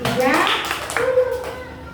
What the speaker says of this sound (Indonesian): kalau merasa senang tepuk tangan.